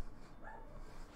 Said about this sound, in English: I have two small terriers, so they're very yappy